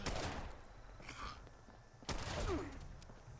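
Shotgun blasts in the game Fallout 76: two heavy booming shots about two seconds apart, each with a short rolling tail, fairly close with light background ambience.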